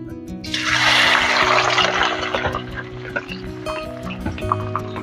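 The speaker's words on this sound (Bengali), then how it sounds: "তেলটা গরম হয়ে গেছে, আমি মাছগুলো তেলে দিয়ে দিচ্ছি।" Tangra fish drop into hot oil with a sudden loud hiss and sizzle that surges at once, then settles into steady frying with scattered sharp pops and spluttering crackles, close by.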